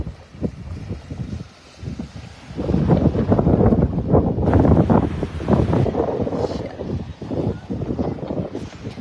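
Strong wind roars and buffets the microphone in gusts at a kite surfing spot in Spain, rising to a loud, sustained rush with possible surf in the background.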